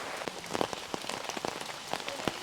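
Rain falls steadily outdoors in Wayanad during a promo shoot. It makes a dense patter of drops on surfaces, with scattered louder close splashes. The sound is fairly faint and fills the whole moment without any voices.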